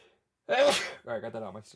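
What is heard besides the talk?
sneeze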